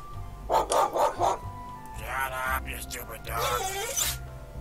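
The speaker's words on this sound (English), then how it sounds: "Yeah, shut up, you stupid dog." A dog barks in a horror video game, a quick run of three or four sharp barks followed by scraping, rustling game sounds, with a voice speaking over them.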